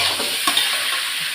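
Cut raw mango is tipped into a hot pan and sautéed, giving a brief, steady sizzle with a couple of soft stirring scrapes up close.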